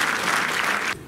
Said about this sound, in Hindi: जोरदार तालियां होनी चाहिए musicians के लिए